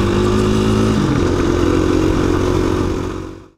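A KTM 690 Rally Raid motorcycle engine revs loud and close, its pitch shifting after the first second, then holds a rough, throaty drone before cutting off abruptly at the end.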